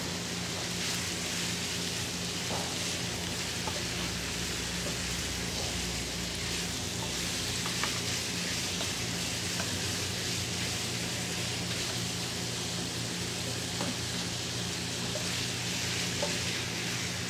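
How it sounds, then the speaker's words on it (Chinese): Onions sizzle in a pan while red wine beef stew is being prepared, making a long, even hiss with faint crackles and no talk. "给各位看一下，长得像这样子，洋葱也进来了"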